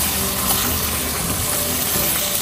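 Pork ribs stir in a pan with soy, oyster and Worcestershire sauce, giving a close, steady sizzling hiss with wet sloshing and scraping throughout.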